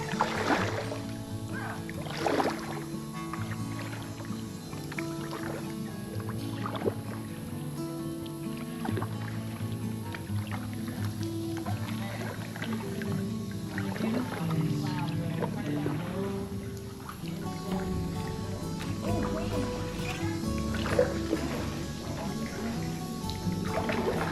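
A kayak moves along a river in Riverbend Park, Jupiter, Florida, with soft paddle splashes and water trickling around the hull, fairly quiet and close, while a person speaks intermittently.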